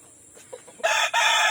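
A white leghorn rooster crows loudly and close among farm chickens, its call bursting out after a few soft clucks.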